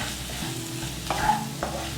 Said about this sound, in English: Keep the flame low and mix all these ingredients well now.